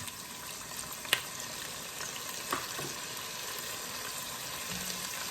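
Two tablespoons of garlic frying in a hot pan, a faint, steady sizzle with a couple of soft clicks, no voices.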